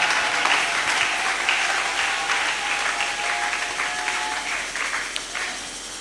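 A church congregation applauds at length, dense and steady clapping from many hands filling the room, holding at an even level with no voices standing out.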